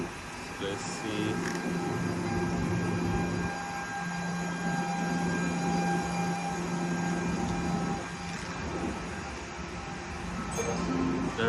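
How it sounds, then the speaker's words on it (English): A twelve-car TER regional train on the Lyon Part Dieu to Paris Bercy line passes close by, a steady loud rumble and roar of wheels and engine that holds throughout with faint hum overhead. "It's a long train having 12 voitures, 12 buggies, you can say."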